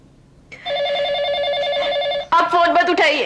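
A phone rings with a steady electronic trill for nearly two seconds, then a voice cuts in over it.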